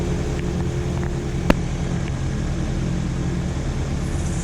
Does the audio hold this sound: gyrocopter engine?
yes